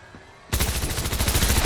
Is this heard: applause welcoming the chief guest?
no